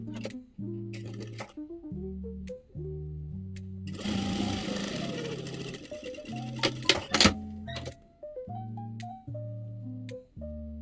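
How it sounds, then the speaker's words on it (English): A sewing machine stitches lace scrunchie fabric in short, rhythmic whirring runs that stop and start repeatedly, with a louder burst in the middle, close and clear. "Sewing here."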